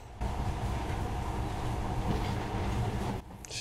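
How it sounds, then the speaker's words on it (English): A monorail train rumbles along in Metro Last Light Redux, a loud, steady, close ride that starts suddenly and drops off near the end, with no talking. "We're headed, making our way on the train."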